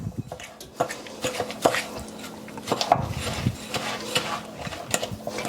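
Crushed vanilla wafers being mixed into softened cream cheese in a bowl, with irregular scraping and tapping strokes of a utensil against the dish, close and clear, no talking.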